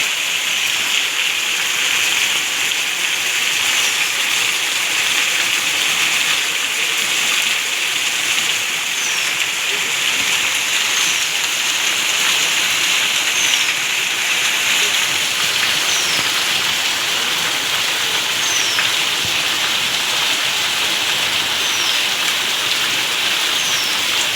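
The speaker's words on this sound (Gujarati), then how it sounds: "બહુ જ વરસાદ પડે છે અમારા ગામમાં ગામમાં પાણી પડે છે બરાબરનું" Heavy rain pours steadily over a village, a dense, even hiss that stays loud and unbroken for the whole stretch, with no voices.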